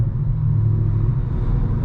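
A straight-piped BMW M3 idles with a deep, steady low rumble, loud and continuous throughout with no talking.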